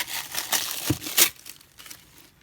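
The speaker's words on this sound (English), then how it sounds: "And then I'm just gonna take the tissue paper off." Tissue paper wrapping is crinkled and pulled away from a newly delivered six-month undated planner, a run of close, dry rustling bursts that peak in a sharp crackle before fading to soft, quiet handling.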